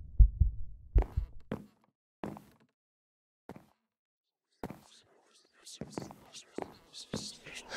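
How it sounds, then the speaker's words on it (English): Eerie ghostly whispering effect in the horror game Grief - The Five Stages, breathy hissing murmurs emerging faintly after a few low heartbeat thumps, scattered with pauses and growing denser toward the end. "Hooray, the whispering's back."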